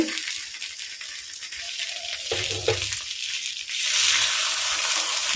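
Kuzhi paniyaram being turned in a hot dimpled pan, with steady sizzling oil and a few light scraping, clinking touches as the pieces flip, growing slightly louder at the end.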